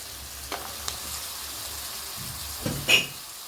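Half a kilo of chicken pieces fry with spices in a pan for chicken pulao, a low steady sizzle close by with a few soft stirring scrapes and one louder clatter near the end.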